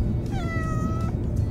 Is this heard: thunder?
no